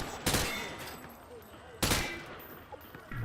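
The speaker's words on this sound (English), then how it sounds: "He sprayed bullets all over the damn place." Gunfire from the hip in a video game: two sharp, loud gunshot blasts about one and a half seconds apart, each trailing into a quieter echo, with faint background game sounds.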